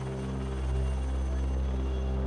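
Helicopter rotors drone steadily and loudly without pause, hovering beside the Bloukrans Bridge in South Africa while a passenger hangs on attached for a stunt ride.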